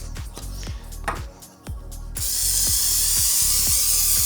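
A rapid, steady clicking of a manual pump on an oil spray bottle, close and loud, followed by a continuous hissing spray.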